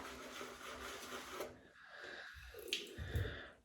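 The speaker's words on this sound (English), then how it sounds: "That's a bit of water." A few soft water drips and splashes land in a small shaving bowl holding sandalwood shaving cream, close and quiet, with faint rubbing noises before them.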